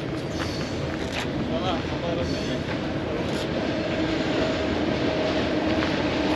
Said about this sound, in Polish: O, dwa na raz jadą pociągi.